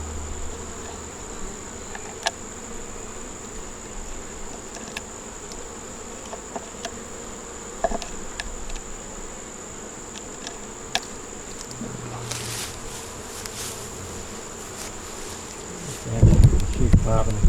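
Honey bees buzzing at a hive, a continuous close hum with occasional passing bees and small clicks, and some handling noise near the end.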